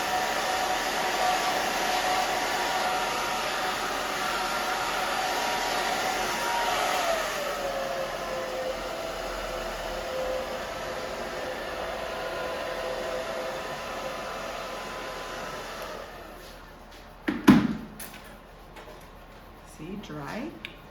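Hair dryer blowing steadily as hair is worked back and forth with a brush, a constant near whoosh that stops near the end, followed by a few clicks and handling sounds.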